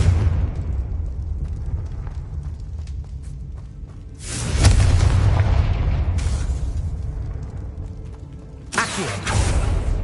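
Confringo spell blasts go off in Hogwarts Legacy as loud, close explosive booms, with rumbling bursts erupting over a low churning background and a second blast arriving near the end.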